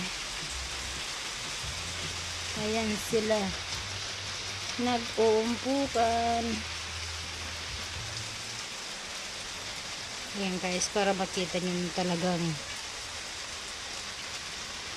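Steady rain patters throughout in Bicol, Philippines, a soft constant hiss, while a person talks over it in short bursts.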